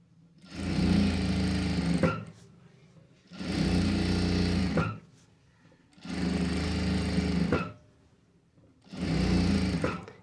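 A sewing machine stitching piping onto a blouse, four steady two-second runs of close, loud whirring separated by quiet gaps.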